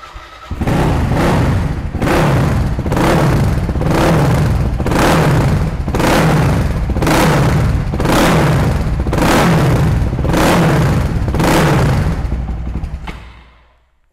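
CCM Spitfire Bobber Limited Edition motorcycle engine revved repeatedly, about eight loud, even blips rising and falling in a steady rhythm before cutting off abruptly.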